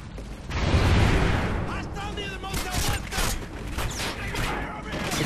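Rapid automatic gunfire in Call of Duty Ghosts, a loud burst up front followed by mechanical clicks and scattered shots under game effects.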